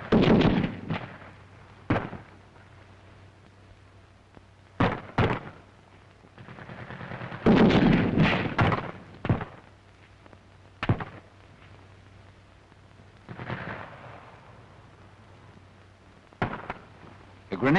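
Gunfire and grenade blasts from a German infantry squad assault: scattered sharp shots and bursts of rapid fire, with louder booming blasts around the middle. Quiet stretches fall between them and someone narrates in parts.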